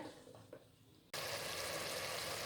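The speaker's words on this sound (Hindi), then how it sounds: "इसको हम अच्छा सा भूनेंगे जब तक कि ऑयल जो है वो ऊपर ना आ जाए" Keema, minced meat, frying in oil in a pan: a soft sizzle at first, then a sudden loud, steady, broadband hiss of hot oil that holds to the end.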